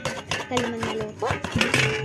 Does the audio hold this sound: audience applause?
no